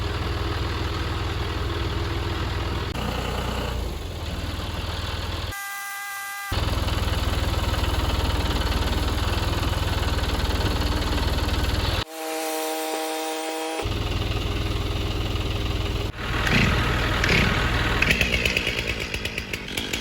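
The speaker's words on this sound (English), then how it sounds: "Here I am lopping out the end of the log" A chainsaw cuts through the end of a dawn redwood log suspected of ring shake, loud and close, the engine roaring steadily with two brief drops to idle between cuts.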